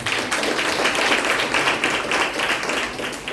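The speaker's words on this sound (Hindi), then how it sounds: "देखो ये चीज सुनकर आप सबने ताली बजाया" A congregation at a Sunday church service claps together in a continuous, dense patter of applause that stays fairly loud and even throughout.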